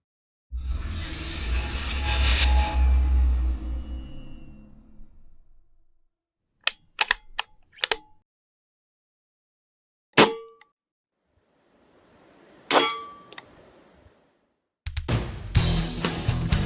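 Benjamin Marauder Synthetic air rifle firing: a handful of sharp, isolated mechanical cracks and clacks spaced a second or more apart, the shot sounds standing out against near silence after some earlier broadband rustling noise.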